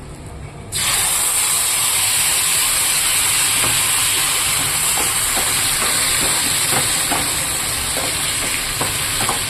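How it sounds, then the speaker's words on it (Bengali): Mustard paste hits a hot pan holding fried eggplant and bursts into a loud, steady sizzle after a brief quiet start, with small scraping clicks from stirring scattered through the hiss. "এবার সর্ষে বাটাটা আমি দিয়ে দেবো এখানে"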